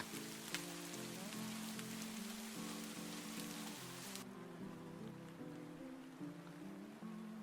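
Steady rain ambience pattering on a surface runs behind gentle tonal music during a relaxed art session, then the rain's bright hiss abruptly drops away partway through, leaving only the quieter music.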